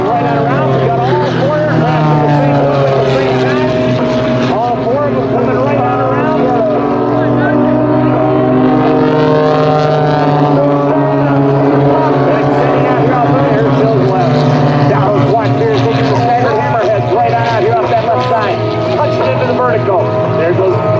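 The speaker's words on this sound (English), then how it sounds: "We got all 4 aircraft in the same loop at the same time." Four propeller aerobatic aircraft fly a loop together at an airshow, their engines a continuous loud droning hum with shifting pitch, steady throughout without pause.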